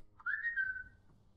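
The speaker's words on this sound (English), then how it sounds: "Okay, let's try the whistle." In the Skyrim video game, a player whistles to call a companion, a single rising then gently falling whistled tone lasting under a second, clean and fairly quiet with no speech.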